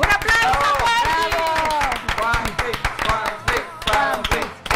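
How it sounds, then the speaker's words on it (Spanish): Lively studio audience clapping and cheering on a TV variety show, with voices shouting over it, dense and continuous throughout. "Un aplauso, Juanpi"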